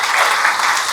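A church worship congregation claps for the Lord, a brief, loud, dense burst of applause from many hands with no voices on top.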